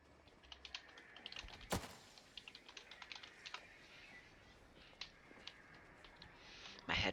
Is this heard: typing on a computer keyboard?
yes